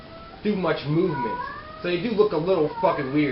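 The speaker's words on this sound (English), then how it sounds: "If you can hear that cat screaming in the background," A cat yowls and caterwauls loudly in repeated, wavering bursts in the background while a person keeps talking over it.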